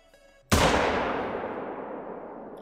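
A single rifle shot fired at an African buffalo in the hunting video game theHunter: Call of the Wild, a sharp loud crack followed by a long rolling echo that fades slowly, with no talking.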